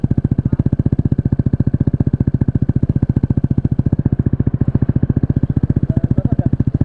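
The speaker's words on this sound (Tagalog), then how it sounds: "Ang sarap pala ng tunog pag wala tong silencer." A PGO Tigra 150 scooter fitted with an Akrapovic exhaust and its silencer removed idles loud and close, with a steady, rapid, throbbing exhaust pulse that runs unbroken throughout.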